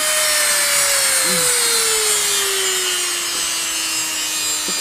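A Dremel rotary tool works a Gundam mech scale model part in a steady, high whining grind, its pitch slowly sagging as it bears down, with a brief scrape midway.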